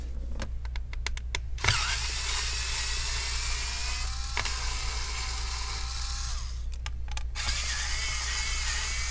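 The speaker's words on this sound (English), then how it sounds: "Let's go ahead and remove the three screws." An electric screwdriver whirs in bursts, removing screws from a Dell Inspiron P66F laptop, with sharp clicks between runs over a steady low background hum.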